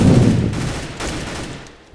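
Bursts of automatic gunfire in Counter-Strike: Global Offensive, loud and close, with a heavy rattling volley at the start that tapers off over two seconds, no voices.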